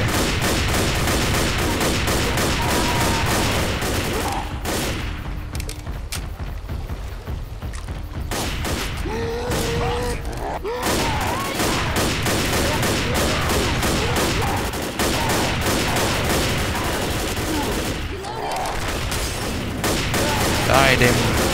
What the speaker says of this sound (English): I'll shoot him.